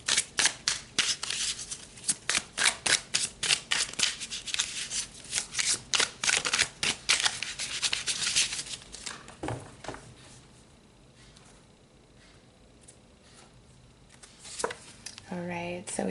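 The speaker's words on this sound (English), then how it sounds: "Let's pull some more cards." Tarot cards shuffled by hand during a spiritual reading, a quick run of crisp riffling flutters up close, then a quieter pause and soft card handling as a voice starts to speak.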